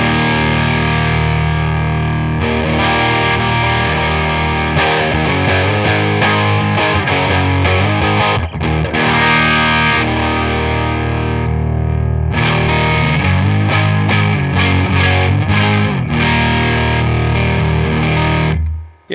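Electric guitar played through a Paul Cochrane Timmy overdrive pedal with the gain turned up: loud, continuous distorted chords and riffs ringing close up, with a brief break near the middle and no voices.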